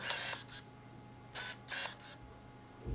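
A Minolta 9000 film camera's autofocus motor whirs in several short, faint bursts separated by quiet pauses, heard close up.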